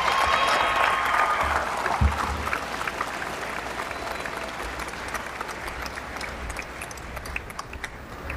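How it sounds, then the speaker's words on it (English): Sustained applause from a commencement crowd honoring College of Engineering graduates, a dense, even patter of many hands at moderate distance, with one louder thump around the middle. "Please join me in applauding the graduates from the College of Engineering."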